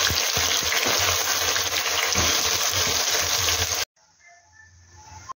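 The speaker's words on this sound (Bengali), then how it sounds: "আমি পেঁয়াজটা ভেজে নিচ্ছি" Onions frying in oil in a pan for homemade chicken biryani, a loud, steady, close sizzle that cuts off abruptly and leaves near silence.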